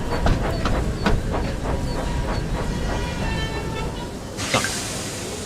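Thomas and Friends: Wonders of Sodor game train running steadily, with a continuous rolling rumble, periodic clanks and a burst of steam hiss near the end, fairly loud and without talk.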